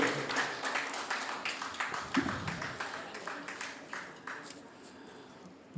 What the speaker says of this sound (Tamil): எல்லாரும் சேர்ந்து பலத்த கரகோஷம் அவருக்கு கொடுக்கலாம்